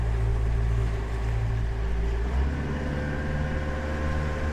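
A Yamaha 150 outboard motor on a 2010 Willie Raptor 22-foot boat drones steadily and loudly throughout, a continuous low engine hum with a slight pitch shift partway as the throttle changes, no voices.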